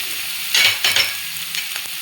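Green beans being fried and stirred in a pan for ragi vegetable soup, with a steady sizzle and a few louder scraping stirs close by.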